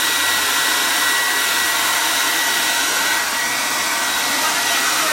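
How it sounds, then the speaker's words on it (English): A hair dryer blows steadily on a shirt to dry freshly applied ink, a continuous close, loud whooshing hum that holds evenly for the whole stretch with no voices. "I'm going to take a hairdryer to that just to dry the ink."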